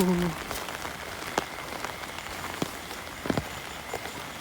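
Steady heavy rain patters on a surface at night, with a few sharper drips and taps standing out against the continuous wash.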